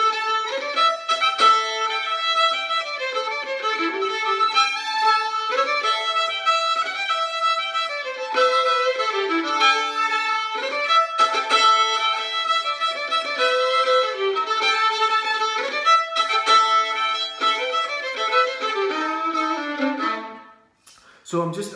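A solo fiddle plays a lively traditional tune with quick triplets, double-stopped chords and sliding C naturals, the notes running continuously and close for about twenty seconds before a brief fade at the end.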